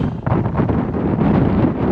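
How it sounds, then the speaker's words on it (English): Strong wind blows outdoors in a spring garden, buffeting the microphone with rough, gusty low rumbles for two seconds, while a voice can be heard briefly. "woo, it's windy."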